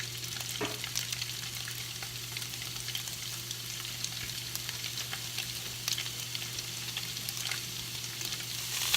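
Italian sausage fries in a little olive oil in a pan, a continuous even sizzle with occasional soft stirring taps and a low steady hum beneath, no speech.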